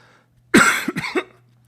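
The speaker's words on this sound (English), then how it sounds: "you could hear that there was a cough in there" One sharp, close cough followed by a couple of shorter throat sounds in an otherwise quiet room.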